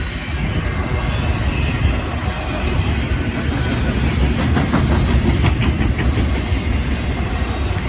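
A Norfolk Southern double-stack intermodal freight train loaded with JB Hunt containers rolls past heading westbound toward Memphis, a loud continuous rumble and roar of wheels on rail filling the whole stretch without letup.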